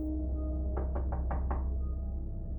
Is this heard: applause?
no